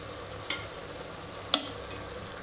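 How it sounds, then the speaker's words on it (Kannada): Sambar with tamarind and jaggery simmering in a pot, a soft continuous bubbling hiss with two sharp clicks of a utensil against the pot, quiet and close. "ನೋಡಿ ಕುದಿ ಬರಬೇಕು ಈ ಥರ ಹುಣಸೆ ಹಣ್ಣಲ್ಲಿ"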